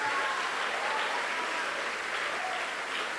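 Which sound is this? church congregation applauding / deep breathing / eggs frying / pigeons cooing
church congregation applauding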